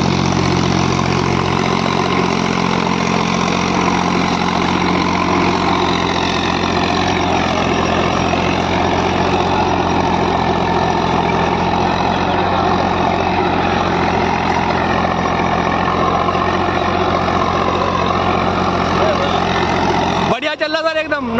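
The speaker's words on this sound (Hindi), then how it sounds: "रोटावेटर की परफॉर्मेंस और ट्रैक्टर के रिजल्ट देखो" A tractor drives a rotavator through field soil, its engine holding a loud, steady, even drone for the whole stretch, with a short louder burst at the very end.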